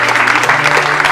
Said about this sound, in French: Applaudissons pour Jésus-Christ.